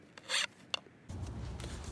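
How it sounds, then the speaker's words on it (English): Wooden walking cane hand-sanded with 120-grit sandpaper: a couple of short, bright rasping strokes, then a steadier, lower scuffing rub that continues to the end, close up and with no talking. "I sanded it down with some 120"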